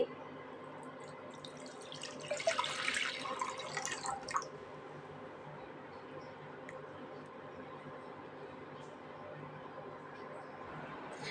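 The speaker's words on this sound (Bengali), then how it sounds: "একটা প্যান নিয়েছি প্যানে দিয়ে দেব পানি" Water pours into a cooking pan for boiling potatoes for a prawn and yardlong bean dish, a splashing rush of about two seconds that then stops, leaving a quiet kitchen hum.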